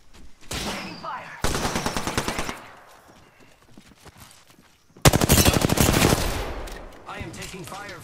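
Automatic gunfire in Apex Legends multiplayer, two long, loud rapid-fire sprays separated by a quieter gap, with close weapon sounds and brief game effects in between.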